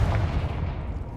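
A Confringo blasting spell in the Hogwarts Legacy video game goes off with one loud, sharp explosive boom, the rumble quickly decaying into a short tail.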